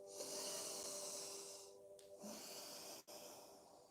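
A person in a yoga class breathes slowly through the nose, a soft, close, airy sound that swells and fades, with a brief rustle partway through and no one talking.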